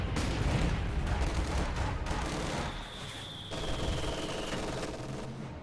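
Heavy machine gun fire in a World War-era strategy video game, a dense sustained rattle of rapid shots with battle noise, loud and continuous throughout with no talk.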